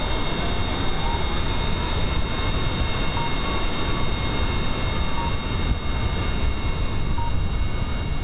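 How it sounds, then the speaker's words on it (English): A rocket engine igniting and launching in a PS4 video game gives a steady, loud, unbroken roar with a broad rushing noise that holds evenly from start to finish. "So, are we ready for test number 2? In 3, 2, 1, ignition."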